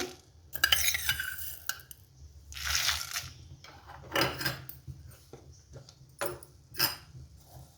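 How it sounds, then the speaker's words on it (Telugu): Coriander seeds are tipped into dried red chillies frying lightly in a pan, giving a few scattered bursts of scraping, clinking and rustling with quiet gaps and only a low background of frying between them. "ఇప్పుడు ఈ మిర్చిలోనే 2 స్పూన్లు ధనియాలు వేస్తున్నాను."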